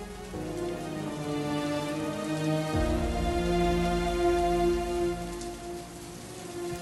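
Steady rain falls in a continuous hiss, under a sustained tonal musical drone that swells partway through, with no voices.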